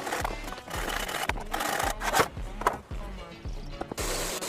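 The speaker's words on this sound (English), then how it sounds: "He then uses a chisel to create perfect grooves on the edges of the wood" A chisel cuts grooves along the edges of a wooden frame piece for an outdoor bushcraft shelter, giving a rhythmic series of close scraping, rasping strokes about every half second, each with a low knock, and no talk.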